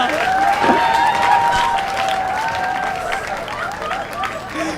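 Applause and cheering from a studio audience for comedian Ankit Sharma on a stand-up talent show stage, dense steady clapping with some crowd noise throughout, loud and close.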